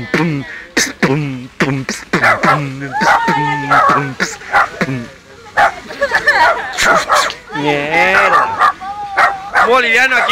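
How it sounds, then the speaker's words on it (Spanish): A dog yips and barks repeatedly, close by and insistent, mixed with voices and a busy background. "Y el perro que no se calla, carajo."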